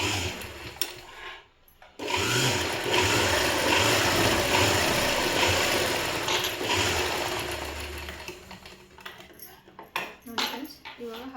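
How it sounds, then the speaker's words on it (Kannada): A sewing machine runs in a sustained mechanical whir as it stitches a pocket for a school uniform, with pulsing needle rhythm, then stops; handling clatter and a few sharp clicks follow. "ನಾನು 1 ಇಂಚಿಗೆ ಇನ್ನೊಂದು ಸ್ಟಿಚ್ ಹಾಕ್ಕೊತಾ ಇದ್ದೀನಿ."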